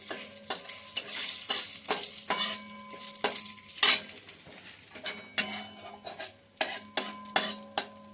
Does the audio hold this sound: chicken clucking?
no